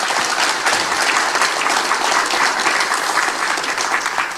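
A dense, loud wave of applause fills a public briefing hall in Yeosu during a session on merging Gwangju and South Jeonnam administration and education, holding steady throughout.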